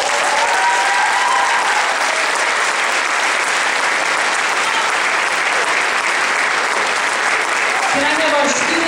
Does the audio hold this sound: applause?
yes